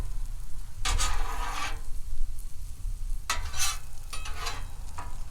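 Vegetables scraped and pushed across a hot Blackstone griddle while making pizza, with two bursts of spatula scraping and sizzling over a low, constant background rumble, close by and without talk.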